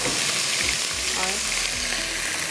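Tomatoes go into a masala frying with ginger and garlic for qeema chana pulao, giving a steady, loud sizzle with a few soft stirring scrapes throughout.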